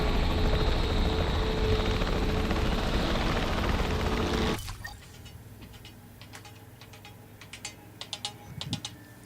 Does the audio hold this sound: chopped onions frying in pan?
no